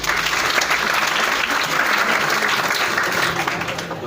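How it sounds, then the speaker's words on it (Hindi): Students in a CA Foundation face-to-face class clap together to welcome a classmate, a dense, steady round of applause filling the room from start to finish. "तालियां बजा दो"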